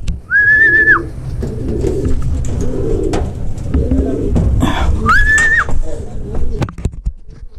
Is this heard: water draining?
no